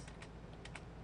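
Typing on a computer keyboard: a short run of four or five crisp, separate keystrokes, close and fairly quiet over a low steady room hum, with no voices.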